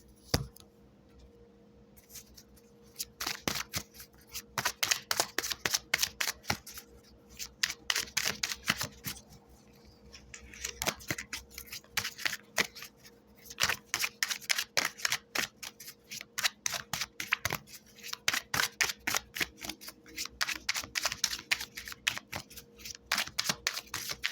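Cards riffle in rapid clattering bursts, shuffled again and again in a steady rhythm, close and fairly loud, with no talking.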